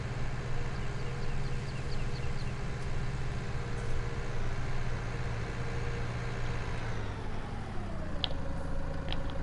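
A four-wheel-steering tractor engine in Farming Simulator on the Alpine Erlengrat map hums steadily at a constant drone, then its pitch shifts and drops near the end with a couple of faint clicks.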